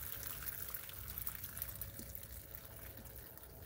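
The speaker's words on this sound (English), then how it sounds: "Okay, turn the water down." Water runs steadily from a tap while a squirrel is being cleaned, a quiet continuous splashing hiss with no talking over it.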